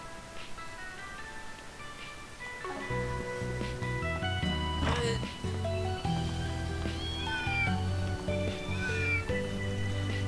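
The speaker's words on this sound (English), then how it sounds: "Got a lot of stray cats here in Old Town, but they all seem to fall in line around that gray one." Stray cats in an old town area of the video game Trails Through Daybreak meow repeatedly over background game music, several short cries scattered across the scene.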